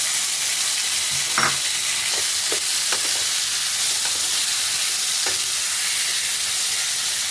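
Steady frying sizzle of pumpkin in a pan fills the clip, with a few scraping stirs; no one speaks.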